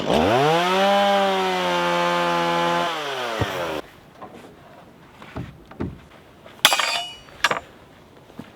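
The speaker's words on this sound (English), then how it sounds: "Cutting the rebar a little bit shorter because our logs are a little bit thinner." A power saw cuts steel rebar to length for a log cabin build, a loud, close whine that winds down after about four seconds, followed by metallic clinks and clatter as pieces are handled.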